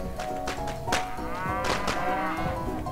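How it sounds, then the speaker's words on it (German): A cartoonish cow in the video game Rock of Ages 2 lets out a long, loud moo over game noise, with a few dull thumps underneath. "eine Kuh! Ich hab eine Kuh!"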